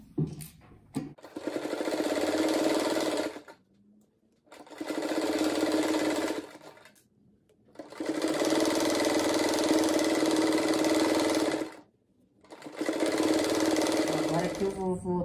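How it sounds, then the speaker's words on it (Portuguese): Sewing machine stitching strips of fabric into a rug, running in four loud, steady bursts of a few seconds each, with short pauses between them. "Daí é só costurar agora."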